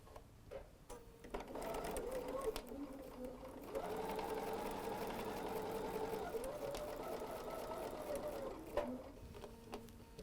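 Sewing machine stitching a seam on fabric for a Christmas panel sampler quilt, a fast rhythmic mechanical hum running in bursts with brief pauses and soft clicks, fairly quiet and close.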